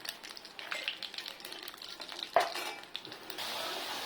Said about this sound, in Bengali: ফোড়নে দিব জিরে, গোটা জিরে, শুকনো লঙ্কা আর 2টো